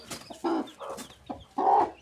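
Hen clucking in short bursts, several close calls with pauses between them, heard alone with no talking.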